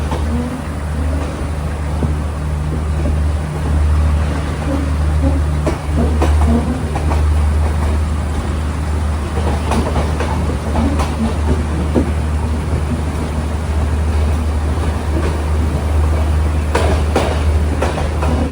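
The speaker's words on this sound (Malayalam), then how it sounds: "ട്രെയിനിപ്പോ വേങ്കോട എന്ന സ്റ്റേഷനിലേക്ക് എത്തിയിരിക്കുകയാണ്." Continuous deep rumble and clatter of the Colombo–Trincomalee night mail train as it runs into Venkoda station, with intermittent clicks from the wheels over the track and no voices.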